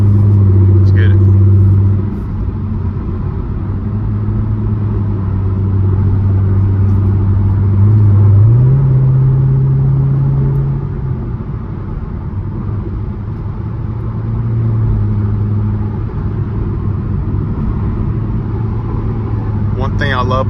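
A loud C7 Corvette on a late-night drive, heard from inside as a steady low engine drone that swells and settles with throttle changes, continuous for about twenty seconds.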